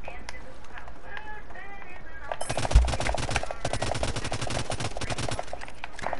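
Rapid automatic assault rifle fire in the battle royale video game Realm Royale breaks out partway through, a dense sustained burst of shots mixed with game sounds while players talk over it.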